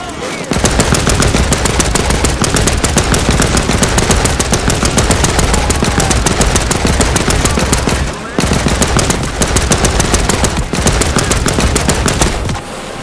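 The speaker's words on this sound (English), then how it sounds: "Kowalski, get on that machine gun." A machine gun in a war video game fires long, loud, rapid bursts of shots at close range, nearly continuous with two short pauses between strings of fire.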